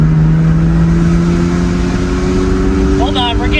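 1985 Mazda RX7 GSL with a Weber 40 DCOE carburetor accelerating in second gear, a loud close engine tone rising steadily, with a voice briefly heard near the end.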